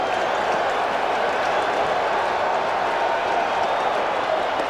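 A packed Shea Stadium crowd at Game 2 of the 1986 World Series between the Red Sox and Mets keeps up a steady, broad roar of cheering and clapping throughout, heard from within the stands as a continuous wash.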